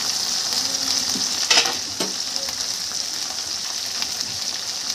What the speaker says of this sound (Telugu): జాగ్రత్తగా కళాయిని పట్టుకుంటూ బెండకాయ ముక్కలన్నిటిని కూడా కలబెట్టుకోవాలి